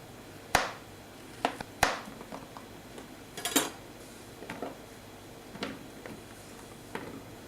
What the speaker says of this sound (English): We're going to cut the carrots to large pieces as well.